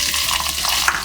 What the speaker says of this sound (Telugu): అంతా కలిసేలా కలుపుకుంటూ ఉల్లిపాయ ముక్కలు గోల్డెన్ బ్రౌన్ కలర్కి వచ్చే వరకు వేయించుకోవాలి